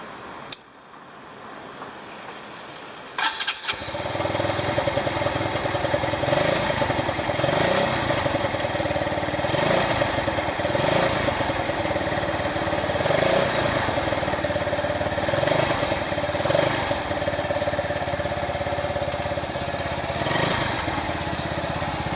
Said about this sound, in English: I'm gonna start the bike for the first time with a new exhaust.